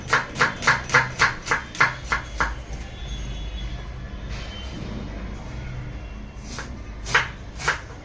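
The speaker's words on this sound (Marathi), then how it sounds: "मी कांदा बारीक करून घेते" An onion chopped finely with a knife on a board: eight quick, evenly spaced close chops, then a pause filled with room hum and a few more scattered knocks.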